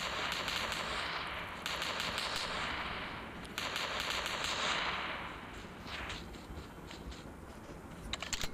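M249 machine gun fire in the BGMI mobile battle royale game: dense, continuous automatic bursts at loud, steady volume, broken by short gaps and sharper cracks near the end.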